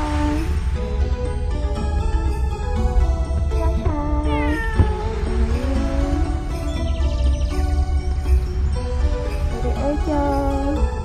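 A rescued street cat meowing repeatedly indoors, drawn-out rising and falling cries, loud and close, with soft background noise and occasional voices.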